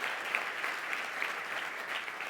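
A large audience applauds the board chair at the closing session of an industry conference: dense, steady clapping throughout, fairly close and full, with no voices over it.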